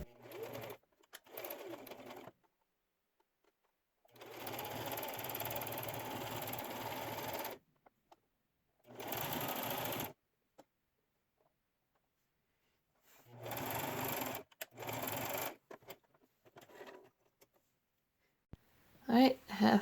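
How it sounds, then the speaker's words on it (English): A sewing machine stitches the ends of fabric ruffles for a rainbow ruffled kaftan. Several separate runs of motor hum stop and start, with a person talking between and around them. "take it to the sewing machine and run it through"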